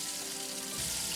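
Chicken pieces frying in oil in a home kitchen pot give a steady, dense sizzle and crackle that runs unbroken throughout, close and even, with no voices.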